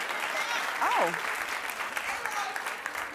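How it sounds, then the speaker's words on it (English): Studio audience applause on a daytime talk show, a steady hiss of clapping that carries through the clip, with a voice briefly exclaiming over it. "there's some people still clapping."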